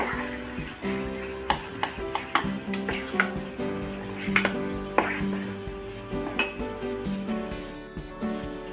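A spoon stirs Eno fruit salt with a splash of water into fasting-style farali idli batter, giving repeated clinks and scrapes against the bowl over a steady background hum, close and moderately loud, with no speech.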